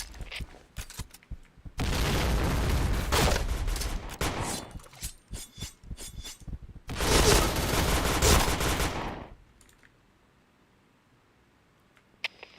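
Bursts of video game gunfire and grenade blasts, with dense sustained volleys around two seconds in and again near seven, separated by scattered sharp shots, then fading to near silence at the end.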